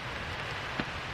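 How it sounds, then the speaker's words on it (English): Steady patter of rain on a tent close by during wild camping in wet, windy weather, soft and continuous, with one slightly louder drop near the end. "Still raining. Still peeing down."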